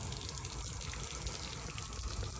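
Water gushes steadily from the outlet of a repaired boat impeller during a test run, a constant close hiss and splash with no pauses or talk.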